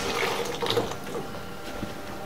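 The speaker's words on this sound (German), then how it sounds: "rühren wir jetzt eine Flasche an mit 500 ml warmem Wasser" Warm water running into a bottle to mix lamb rearing milk at a zoo, a steady close splashing pour with a rising bubbly gurgle, no talking.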